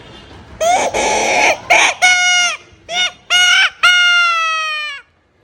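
A flute imitates a rooster's crow, played loud and close in a series of bright, bending bursts that end in one long held cry, with no talking.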